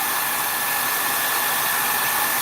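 A hair dryer blows a steady, loud, unbroken airy roar at close range, used to dry a painting wash, with no talking over it.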